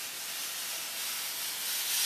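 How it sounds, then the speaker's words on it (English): A boiler-fed steam iron lets out a continuous, even hiss of steam while pressing a delicate dress seam, close by and building slightly toward the end, with no voices. "It's worth it to have something that steams like this. This is almost like a steamer and iron."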